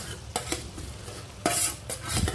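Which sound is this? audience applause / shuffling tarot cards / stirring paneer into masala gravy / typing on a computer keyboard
stirring paneer into masala gravy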